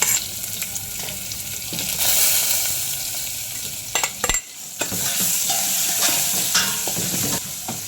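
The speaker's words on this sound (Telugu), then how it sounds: "ఇది ధనియాలు, జీలకర్ర పౌడరు చక్కగా వేగుతుంది" Onion frying with raw coriander and cumin powder, urad dal, dried red chillies and salt in a pan, a loud continuous sizzle close by with repeated scraping stirs and clinks of the spatula, no one speaking.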